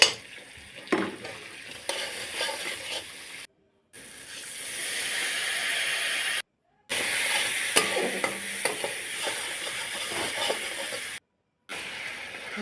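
Spices fry in hot oil in a wok for a pomfret and eggplant dish, a loud continuous sizzle and hiss with stirring scrapes, cut by three short silent gaps.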